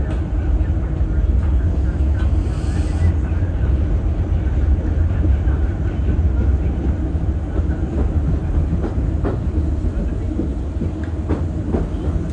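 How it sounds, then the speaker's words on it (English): Disneyland park railroad train coming to a stop at Main Street station, a steady loud rumbling roll with faint clicks and rattles, winding down over several seconds. "The train comes to a full and complete stop."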